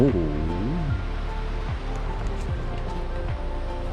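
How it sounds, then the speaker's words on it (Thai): A waterfall sits behind a mountain campsite at Doi Inthanon, heard as a steady broadband rush of water under a voice talking close by. "น้ำตกอยู่ข้างหลังอ่ะ"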